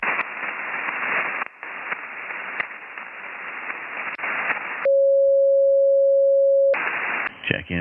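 Static hiss from a ham radio receiver on a QRP single sideband net after switching antennas, a steady band-limited noise floor broken by a brief pause, then a sustained pure tone, before the hiss returns.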